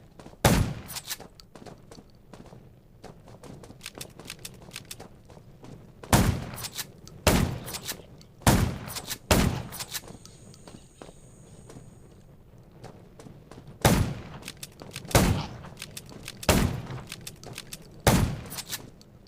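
Guns fire at zombies in the game Undawn, a series of loud, sharp single shots spaced irregularly, some in quick pairs, between quieter stretches of low ambient rumble and soft movement noise.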